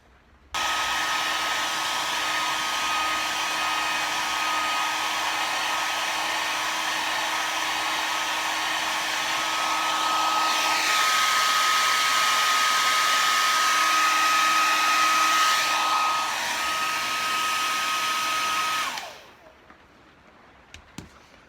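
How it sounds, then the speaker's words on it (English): A hair dryer whirs loudly and steadily up close for about eighteen seconds, heating a leather knife handle held in a vise, its pitch shifting slightly midway, then switches off and winds down. "we're going to hit this with the hair dryer one more time"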